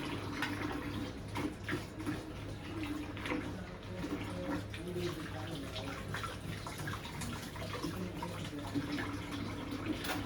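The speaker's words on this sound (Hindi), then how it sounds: "खौलता हुआ पानी आ रहा है।" Hot water runs from a tap at a steady low level, a continuous soft gush with faint splashing and dripping that carries on unbroken with no talking.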